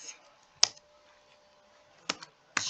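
A computer keyboard is typed in a few short bursts of crisp key clicks with quiet gaps between them, close and fairly soft.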